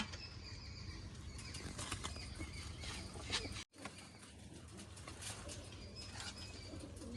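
Racing pigeons at a rooftop loft in Punjab, a brief loud flurry of flapping wings followed by soft cooing, heard close over a faint steady background hum.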